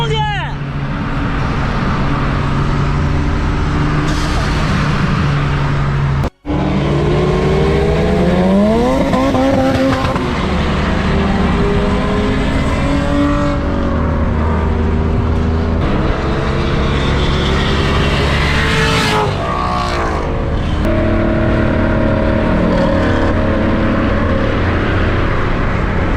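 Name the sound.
cars racing, engines revving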